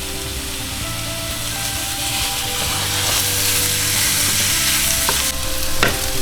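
Peppers and onions fry in a pan with a loud, steady crackling sizzle, brief stirring scrapes and a couple of sharp clicks near the end.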